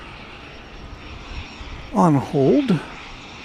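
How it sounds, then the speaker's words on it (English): Small propeller-driven aircraft waiting to take off at Dallas Love Field, heard as a faint, steady engine drone in the distance beneath a brief burst of close speech. "We have a small aircraft. It appears to be propeller driven"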